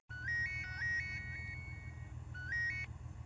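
A phone ringtone trills in two short bursts over a steady low hum, the first burst repeating several quick warbling tones and the second, briefer one following after a pause; no one speaks.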